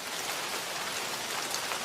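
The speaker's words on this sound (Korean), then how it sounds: "비가 오네." Rain falls steadily in a dense, even hiss of drops hitting a surface, continuous and fairly close with no other sounds.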